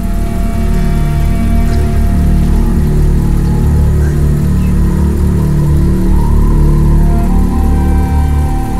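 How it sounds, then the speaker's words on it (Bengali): A car stands parked in a courtyard with its engine left running and no driver inside, producing a steady, loud, low idling hum that holds evenly throughout. "ইঞ্জিনটাও তো চালু রয়েছে"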